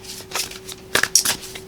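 Oracle cards being shuffled during a tarot-style love reading, a few soft papery riffles and flicks, close and fairly quiet, with one sharper burst of card rustle near the end and no talk.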